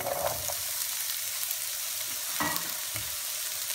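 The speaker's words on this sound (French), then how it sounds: "On fait chauffer la poêle, on met un peu d'huile d'olive et on met nos oignons." Onions frying in olive oil in a hot pan for ratatouille make a steady, close hiss of sizzling with a couple of soft stirring knocks, no voices.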